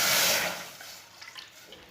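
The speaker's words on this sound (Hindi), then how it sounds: "आधा कप दूध डालेंगे।" Half a cup of milk poured into a pan on a lit stove while making jaggery paratha: a brief steady liquid pour that tapers off into faint trickling.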